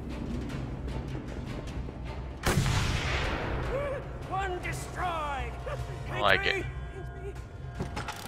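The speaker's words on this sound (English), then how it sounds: "Oh, there's a sniper somewhere, though." Sniper gunfire in the Mad Max video game: a single sharp, loud report with a long decaying tail midway, set against game ambience and engine-like drones, with someone talking throughout.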